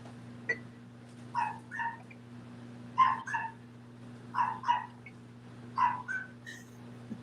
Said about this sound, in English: I can hear the little dogs barking in the background